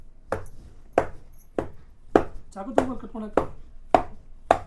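Jaggery being crushed in a home kitchen with about nine loud, evenly spaced hard thumps, close up, while a voice speaks briefly between the strikes.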